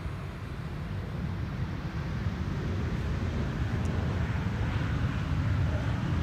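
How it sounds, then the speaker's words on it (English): A JetBlue airliner arriving from Boston descends toward Schiphol's Polderbaan runway, its broadband jet roar steady and fairly loud, swelling slightly over several seconds with wind buffeting the microphone. "JetBlue flight 631 is arriving. Arriving from Boston, Massachusetts."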